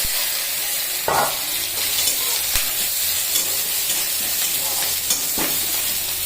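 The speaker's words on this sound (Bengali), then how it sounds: "এবার আমি একটু পেঁয়াজ দিয়ে দেবো" Steady, loud hissing sizzle of onions frying in a pan, with a few scraping stirs cutting through, close and continuous without speech.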